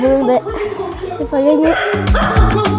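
A dog yips and whimpers in short bursts close by, mixed with someone talking and chuckling over it.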